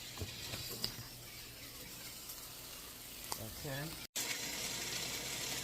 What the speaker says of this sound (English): I don't know if you can hear the sizzle, but there you go, the sizzle